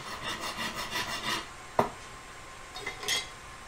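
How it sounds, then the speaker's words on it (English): A coarse metal file rasps across a metal collet in a run of quick repeated strokes for about a second and a half, then one sharp scrape and a few lighter strokes, close and fairly quiet with no talking. "I like using a nice coarse file. Just hacks into the metal really fast."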